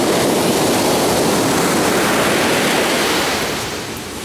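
Ocean waves surge and wash into a parking lot, a loud, broad roaring rush of surf and churning water that eases slightly toward the end, with no voices.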